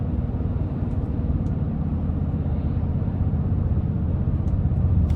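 The engine of a 2025 Toyota Tundra Hybrid TRD Pro drones as the truck drives, a steady loud low rumble heard from inside the cab, with no talking.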